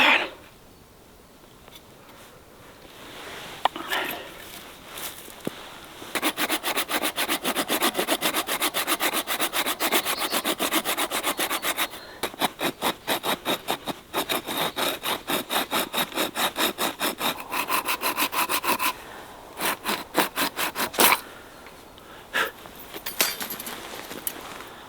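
A bow saw works through wood in steady rapid back-and-forth strokes, loud and close, in long bursts with short pauses between them and no talking.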